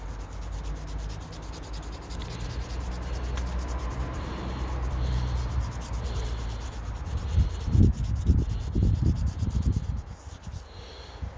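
Abrasive grit sands a BMW side indicator lens with steady rubbing strokes up and down, a close, scratchy scrubbing that grows louder and choppier toward the end, with no talking.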